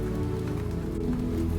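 Steady rain falling on surfaces, a dense even patter with a low soft hum underneath, continuous and without talk.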